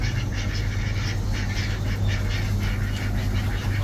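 Ducks quack repeatedly in a steady busy chorus at a Baghdad animal and bird market, imported European penguin ducks alongside Iraqi ducks, over a constant low hum.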